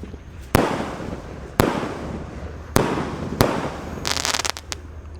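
An eight-shot Roman candle fires on New Year's Eve, four sharp loud pops spaced about a second apart, then a quick burst of crackling, all outdoors with no voices.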